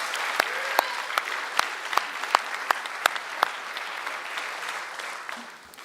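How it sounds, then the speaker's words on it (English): Applause from the audience at a 2025 career and technology center graduation, honoring graduates' parents and families: steady clapping with a few sharp standout claps near the front, holding level before fading at the end. "let's give them a round of applause"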